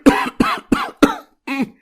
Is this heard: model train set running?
no